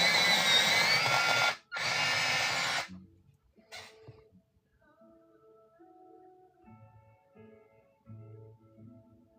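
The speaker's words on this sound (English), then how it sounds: "I need to sharpen this." A pencil is sharpened with an electric sharpener during watercolor work, giving two loud grinding bursts split by a short pause, then quiet with faint tonal sounds.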